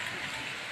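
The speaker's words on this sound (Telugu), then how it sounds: "వర్షం అయితే ఫుల్ అంటే ఫుల్ పడుతుంది" Heavy rain pours steadily in a broad, even hiss that stays loud and unbroken throughout, with no voices or other distinct sounds.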